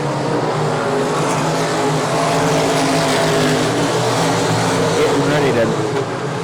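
Dirt track race cars roar past at South Texas Speedway during an A-main, engines loud and steady throughout with a slight pass-by swell, while a commentator talks over them.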